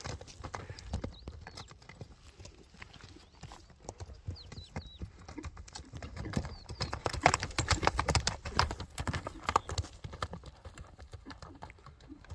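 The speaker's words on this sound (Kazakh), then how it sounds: "Мына жылоосун көрүңүздөр аттын." A horse ambling with its hooves clip-clopping in a quick, steady rhythm, close and fairly loud over an outdoor background.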